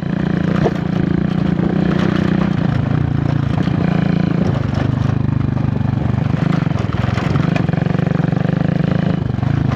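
A small motorcycle engine drones steadily while being ridden, a loud, continuous buzzing hum with slight shifts in pitch and no break for nearly ten seconds, with wind rush mixed in.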